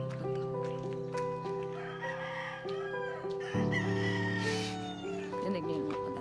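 Roosters crow on a morning in Baler, Aurora, with several long, drawn-out calls overlapping one after another at moderate distance, and a voice talking softly alongside.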